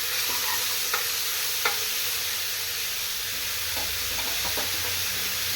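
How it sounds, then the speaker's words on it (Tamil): Chopped onions sizzle steadily in a hot oil pan during home cooking, a constant bright hiss close by, broken by a few soft clinks and scrapes of stirring, with no one talking. "வெங்காயத்தை போட்டு இது வதக்கி வதக்கிட்டு"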